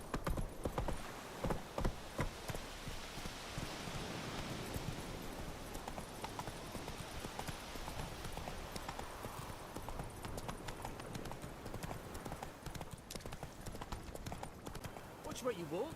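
Roach, a horse in the video game The Witcher 3: Wild Hunt, walking with steady rhythmic clip-clopping hooves throughout, moderately close, with speech at times over the footsteps.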